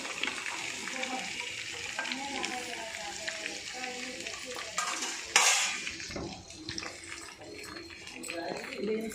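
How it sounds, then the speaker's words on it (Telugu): Green beans drop into crackling tempering in a pan and get stirred, sizzling and scraping steadily with one sharper burst midway, while someone talks over the cooking. "ఇప్పుడు మనం బీన్స్ వేసేసుకుందాం."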